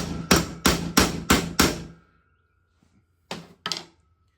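Five quick, evenly spaced hammer taps seat a bearing on a Volkswagen Vanagon, ringing out sharply, then a pause with a faint clink before two more taps close it out, close and loud.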